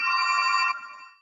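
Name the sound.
phone ringing during an online lecture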